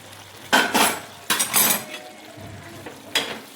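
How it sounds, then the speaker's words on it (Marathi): A lid lifted off a cooking pot of simmering vegetables, with a few close metallic clanks and scrapes of lid and utensil against the pot, separated by quiet gaps. "झाकण काढून बघू"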